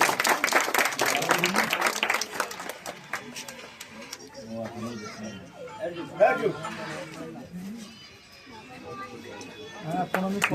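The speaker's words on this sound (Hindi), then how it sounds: "जोरदार ताली से इनका सम्मान किया जाए।" Loud, dense clapping from the crowd at a Ward 56 public meeting in Kolkata as honorees are felicitated, strongest at the start and then thinning out beneath continuing speech and chatter.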